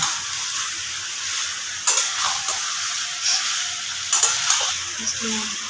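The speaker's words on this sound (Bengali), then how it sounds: "এবার ভালো করে মাংসটাকে আমাদের কষিয়ে নিতে হবে মশলার সাথে" Fried chicken pieces stir-fried with spices in a home-kitchen pan, giving a steady broadband sizzle with a few brief scraping stirs, close and moderately loud, with no talking.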